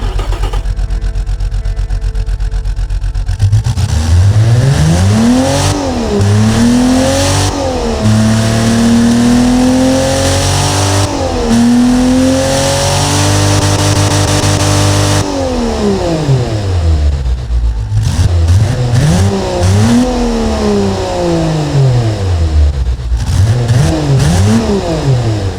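A Nissan L28 inline-six with aluminum cylinder head, simulated in the Automation car game, starts up and revs repeatedly, climbing and falling through the range in loud, close sweeps with steady holds at high rpm, no talking over it.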